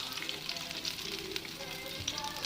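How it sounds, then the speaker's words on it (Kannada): Crushed garlic fries in hot coconut oil, a close, faint, continuous crackling sizzle that holds steady throughout the short moment. "ಇದನ್ನು ಫ್ರೈ ಮಾಡಲಿಕ್ಕೆ ಹಾಕ್ತೀನಿ."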